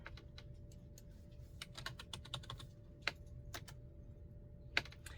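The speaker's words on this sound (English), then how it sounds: "All right, I'm going to type in chaser." Someone types a word on a computer keyboard: a steady run of soft, close key clicks, with a couple of sharper, louder strikes near the end and no talking.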